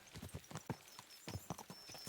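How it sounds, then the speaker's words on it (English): Horses' hooves pounding at a gallop in the medieval game Kingdom Come: Deliverance 2, with rapid, rhythmic clip-clop beats up close and no talking. "Let's really spur these horses on, eh?"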